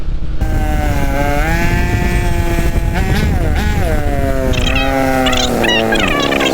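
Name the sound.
motorcycle riding through flood water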